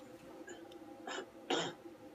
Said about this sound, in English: Sorry, I got a bit of cough then.